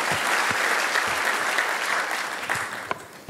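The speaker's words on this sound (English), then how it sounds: "Let's clap for the three again." An audience at an ICPAK annual general meeting in 2019 claps steadily in a dense, sustained round of applause that fades slightly toward the end, with a few louder individual claps standing out.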